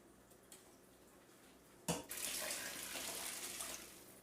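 Eight cups of water pour into a pot of dried beans for ham and beans, a sudden splash onset midway followed by a steady, close, moderately loud rushing stream that continues to the end.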